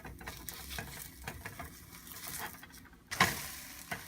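Eggs fry in a pan with a soft, steady sizzle, pressed under a spatula that gives a sharp scrape and clank near the end, close and fairly quiet with no voices.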